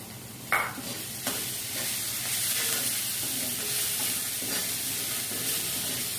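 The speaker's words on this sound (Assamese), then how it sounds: "পিঁয়াজখিনি ৰঙা হোৱাকৈ মই ভাজি ল'ম।" Sliced onion and garlic frying in a little oil in a pan make a continuous soft sizzle. A few sharp stirring knocks break through early on, and there is no talk.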